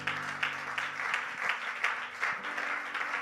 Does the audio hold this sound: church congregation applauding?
yes